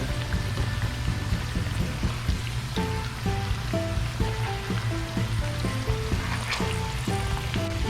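Fries cooking in oil in a saucepan, a steady dense sizzle and bubbling hiss running continuously throughout at close range, with faint tonal kitchen sounds layered over it.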